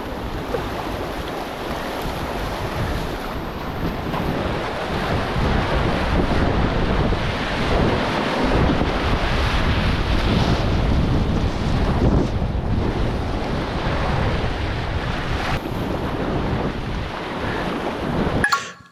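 Whitewater rapids on the Lower Youghiogheny River roar in a steady broadband wash, loud and continuous with wind buffeting the microphone, no voices.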